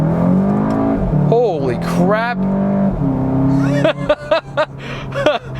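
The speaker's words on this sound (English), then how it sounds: "Okay, let's see the acceleration on this car." A 2018 Subaru WRX or 2017 Volkswagen Golf GTI, its engine note partly synthetic, roars under hard acceleration with rising, loud, close tones for several seconds before a person exclaims and talks over the fading engine.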